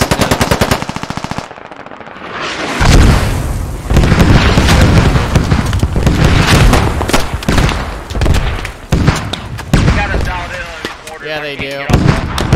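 Artillery fire and explosions in the video game Squad, in a 40 vs 40 battle: loud repeated booms and rolling blasts mixed with rapid machine-gun bursts, with brief talk over the din.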